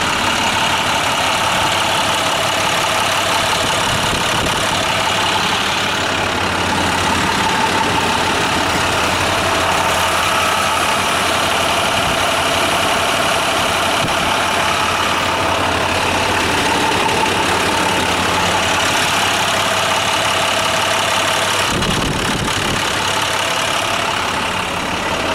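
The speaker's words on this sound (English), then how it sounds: "These engines are a lot louder than the Cummins." A heavy diesel truck engine idles loudly and steadily up close, a constant low rumble with a brief clatter near the end.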